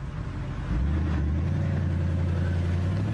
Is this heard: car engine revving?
yes